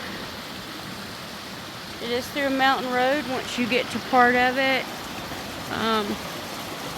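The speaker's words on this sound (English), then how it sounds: "this is part of a waterfall that I found" Water from a waterfall near Paint Creek rushes continuously, a steady broadband hiss beneath someone speaking.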